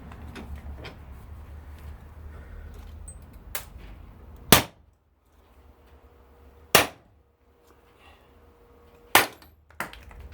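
Hammer blows drive the rotor out of an electric motor: three sharp, loud metallic strikes spaced about two seconds apart, with a few lighter taps and clattering handling sounds between them.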